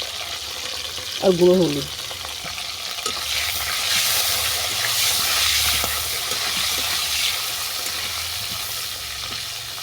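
Cabbage frying in oil in a pan, a continuous sizzle and hiss that rises as it is stirred, with a brief vocal sound near the start and a person speaking over the cooking.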